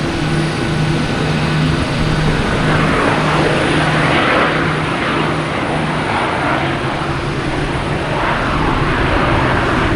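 An American Airlines airliner arriving at Boston Logan Airport from Rochester gives a loud, steady engine roar with a low droning hum that holds evenly for the whole stretch, with no voices.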